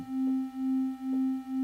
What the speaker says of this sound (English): so now I have a sound wave, a sine wave, on oscillator 1, and I have a saw wave in oscillator 2, and oscillator 2 is a few cents out of tune